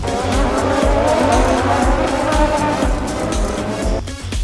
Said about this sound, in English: get this Grand Prix race sound, which I got from Epidemic Sound